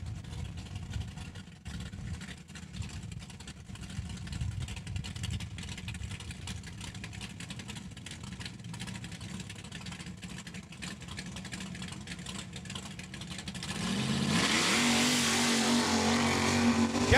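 A 1982 Chevy S10 truck in the tailgate class at a drag strip, its engine droning and revving at a distance before a loud roaring launch swells near the end.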